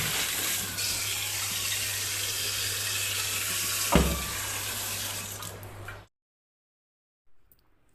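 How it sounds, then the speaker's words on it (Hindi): Water runs steadily from a household tap into a container, a constant close splashing gush with one brief knock partway through, then cuts off abruptly, leaving near silence. "उधर पर पानी भर लेती हूँ।"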